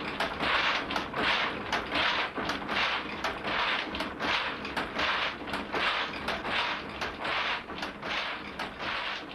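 A ribbon loom in the Bergisch Land weaves colorful ribbons, a loud continuous mechanical clatter with a fast regular beat of repeated shuttle and beam strikes running throughout, with no voices.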